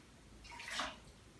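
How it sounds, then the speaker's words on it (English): Leftover cooking water is poured out of a saucepan, making a short splashing gush that swells and fades within a second, heard alone and close. "You're gonna go back to your original saucepan and you're gonna throw the remaining water away."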